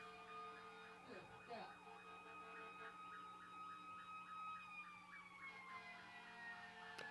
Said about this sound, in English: I'm going to wait till this ambulance goes by.